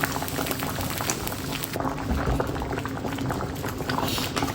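Beans porridge boiling in a covered pot, a continuous close bubbling and gurgling with steady simmering texture throughout.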